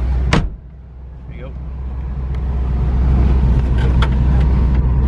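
A 1979 Pontiac Firebird Trans Am sets off for a drive: a sharp thump at the start, then a low, steady engine rumble that swells gradually and stays close.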